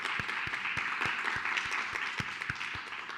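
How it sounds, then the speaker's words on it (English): An audience at an evening conservation keynote event applauds the staff, a soft, fairly distant patter of clapping hands that continues steadily throughout. "if we could please give the staff who have worked all day long a round of applause"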